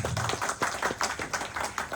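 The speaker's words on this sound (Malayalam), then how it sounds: "നല്ല ക്ലാപ്പ് ആവും അദ്ദേഹത്തിന് പ്ലീസ്" An audience applauds a mentor at a training program, with a steady patter of moderate hand claps filling the moment without speech.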